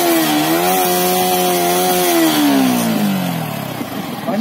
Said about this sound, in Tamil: எக்ஸாஸ் சவுண்ட் நல்லா கேட்குங்க, சேஞ்ச் பண்ணிருக்காங்க.